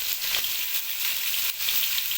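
Ginger garlic paste and tomato fry in a pan for chicken kasha, giving a steady, close hiss of sizzling oil with no talking, only faint stirring movement under the continuous fry.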